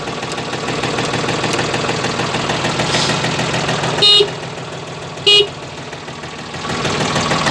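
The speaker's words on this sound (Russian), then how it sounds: "Клаксон работает." Two short, loud car horn honks about a second apart, sounding over a steadily idling engine.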